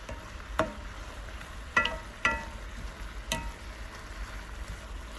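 Onions cooking down in a pan, stirred now and then, giving a low steady sizzle with a few sharp spoon scrapes and taps close by, fairly quiet and without talk.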